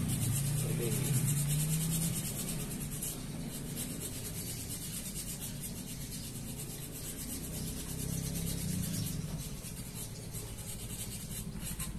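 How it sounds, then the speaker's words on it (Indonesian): Sandpaper rubs across the surface of a leaking refrigerator evaporator in steady, continuous scraping strokes over a low mechanical hum. "Kita amplas permukaannya seperti ini."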